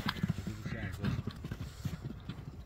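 A purebred horse named Jaguar, offered for sale at Kadamjai, runs with quick, rhythmic hoof clip-clops on the ground while people talk over it.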